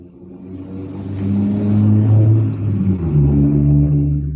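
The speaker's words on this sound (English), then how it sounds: "Sounds like we've got a truck coming through." A truck passing by outdoors: a deep, steady engine rumble that swells over about a second, holds loud and close, and dips briefly before rising again, with no talk.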